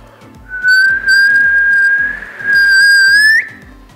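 A person's whistle imitates a boiling kettle: a sustained, loud, steady tone in two long bursts with a brief break between, rising slightly at the end, with faint background noise.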